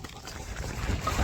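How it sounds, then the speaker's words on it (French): Wind gusts buffet the microphone on a mountain ridge during a rainy hike, a brief, close, rumbling rush of air with no talking. "Oh, il y a du vent"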